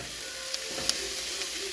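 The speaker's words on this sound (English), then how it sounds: "So that's frying up really quick there." Onions and garlic sizzle steadily in a hot pan, a soft constant hiss with a few faint pops and clicks, close and alone.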